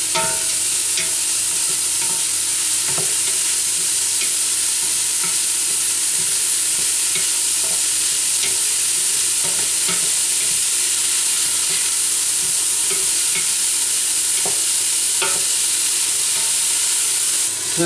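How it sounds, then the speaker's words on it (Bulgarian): Fresh onions for a lamb liver sarma dish sizzle steadily in a pan, with frequent stirring scrapes and a constant close frying hiss throughout, no voices. "Леко да се запържи и той да освободи аромат."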